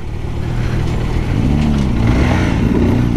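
A Zontes R 350 motorcycle being ridden, its engine a steady loud drone mixed with wind rush, the pitch dipping and rising as the gears change, with no voices.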